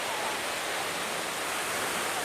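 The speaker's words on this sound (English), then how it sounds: "That is like a solid wall of water just pouring straight down into this basin." Waterfall on the Waikato River, a solid wall of water pouring straight down into a basin, heard as a dense, unbroken roaring rush with no other sounds.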